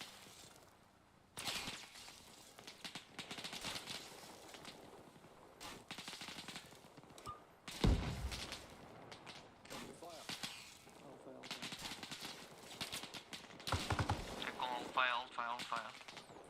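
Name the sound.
gunfire in the video game Arma Reforger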